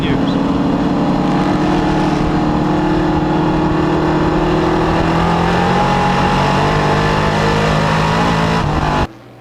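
Several CRA street stock race cars roar past at a short oval track in Indianapolis, engines loud and continuous with rising and falling pitch as they battle through a turn, a race announcer talking over the noise, ending abruptly.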